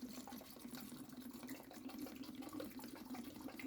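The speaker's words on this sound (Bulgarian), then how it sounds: "допълваме съда с вода, която трябва да бъде нехлорирана" Water steadily pouring into a container of ingredients for homemade lemonade, unchlorinated water with a continuous trickling, filling sound at close range with no talk.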